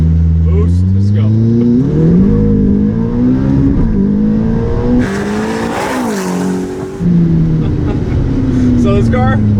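An ATS GT supercar of 830 horsepower launching from standstill with traction control off, its engine roaring loudly and climbing through rising revs, with brief dips at gear changes and a voice talking over it.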